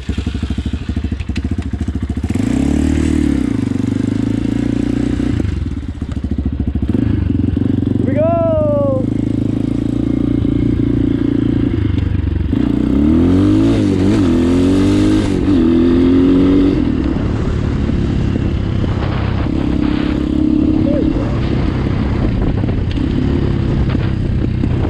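An Apollo 250 motorcycle with electric start fires up and rides off in first gear. Its engine idles, then revs in rising bursts with a few gear-change sweeps, and someone talks over it at times.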